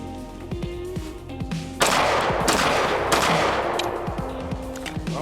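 Rapid gunfire from an IWI Masada 9mm pistol, a string of loud sharp shots with echoing decay, sustained over several seconds at close range with no talking.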